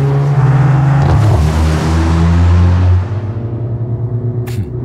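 A Mercedes A 45 AMG with a 7-speed dual-clutch gearbox launches from a race start, its engine roaring loud and close, then easing after a shift.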